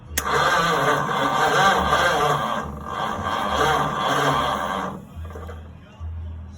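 A 1936 Ford pickup engine cranked on a jumper box, a continuous mid-pitched turning-over drone for about five seconds that stops abruptly, then resumes briefly, close and fairly loud.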